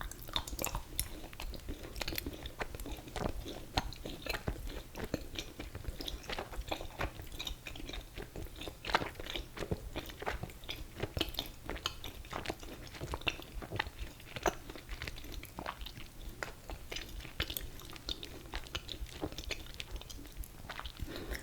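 Close, quiet chewing of nougat Halloween candy, with soft sticky mouth sounds and small crunches repeating steadily throughout.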